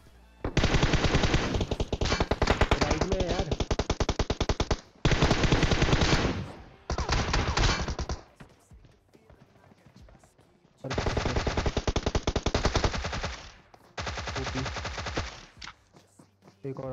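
Long bursts of rapid suppressed automatic gunfire rattle in sustained volleys with short pauses between them, dense and continuous, from the video game PUBG Mobile.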